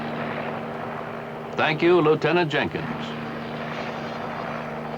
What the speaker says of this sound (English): The noise you hear above us is an Army helicopter circling overhead.